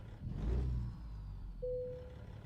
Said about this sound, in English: I know a cat engine when I hear it